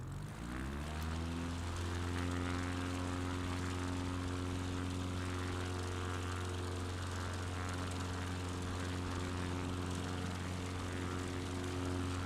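A small propeller plane in a flight simulator game spools up for takeoff, its engine building to a loud, steady drone with a strong low hum that holds alone throughout.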